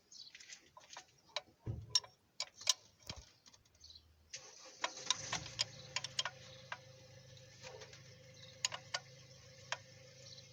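A 17 mm wrench working loose an injector rail fitting on a Hyundai/Kia 1.6 CRDI diesel engine gives sharp metallic clicks and ticks in irregular bursts, close by, over a low hum that starts partway through.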